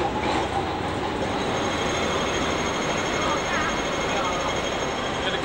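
A tram rolls along its rails with a steady rumble and clatter, and a faint wheel squeal rises partway through, heard from nearby while voices murmur underneath.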